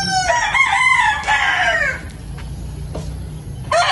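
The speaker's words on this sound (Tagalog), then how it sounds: "May manok dito." A rooster crows up close in a countryside backyard, a long rising and falling call, then the yard goes quieter with faint clucks before another crow starts.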